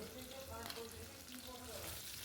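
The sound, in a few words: whole spices and bay leaf frying in mustard oil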